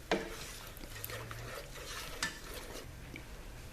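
A spoon stirs honey into a pineapple glaze in a pan, giving soft, steady scraping and clinking that runs continuously at close range, with a few sharper knocks against the pan.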